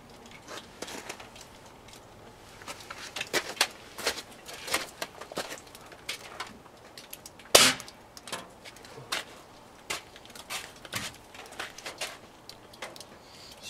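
Gamo and Daisy air guns firing at a necktie, a string of sharp snapping cracks and metallic clangs at irregular intervals, one louder crack midway, with faint speech in between.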